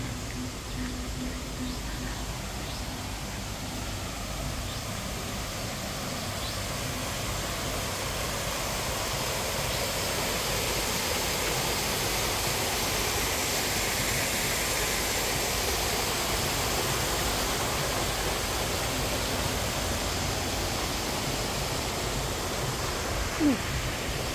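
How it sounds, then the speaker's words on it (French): Waterfall cascades at Safari Park in Nairobi, Kenya, make a continuous, even rush of falling water, heard from a distance at low volume with no talking. "Il y a des cascades"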